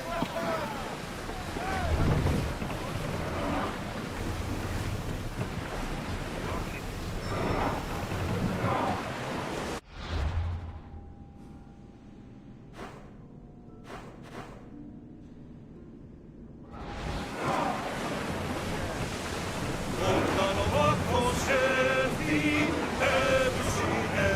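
A sailing ship moves across open sea in Assassin's Creed Odyssey, with rushing wind and water heard alongside faint creaks. The noise drops to a near-quiet lull midway before the full wash of wind and waves swells back, and voices are heard among it.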